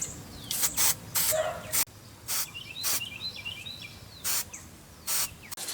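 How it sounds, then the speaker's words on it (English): Several short hissing bursts of graphite dry lube sprayed onto metal sleeves of a Yates American J180 machine, each lasting a fraction of a second, separated by pauses, with faint chirpy background noise. "I'm going to spray some graphite dry lube on these sleeves"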